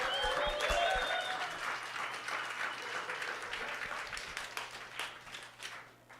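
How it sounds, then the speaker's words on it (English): An evening event audience applauds a presenter at an arts space: dense clapping from many people, strongest at the start and gradually thinning and fading toward the end, with a faint whistle early on. "So could you please give a huge round of applause to Luis?"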